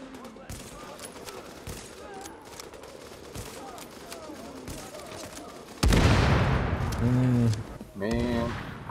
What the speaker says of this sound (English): Let's test my weapon.